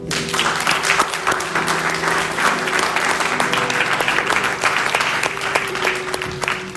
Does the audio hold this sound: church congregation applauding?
yes